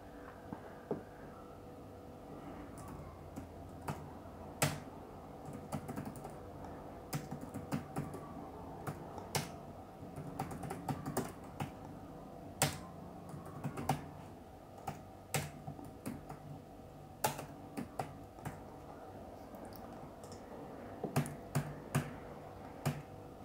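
Rapid, uneven keystrokes on a computer keyboard, clicking close and clear in quick bursts with short pauses while entering invoice details, with a faint steady hum underneath.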